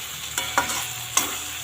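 Vegetables with green chillies sauté in a pan, with a continuous close sizzle and three quick spatula scrapes in a short burst.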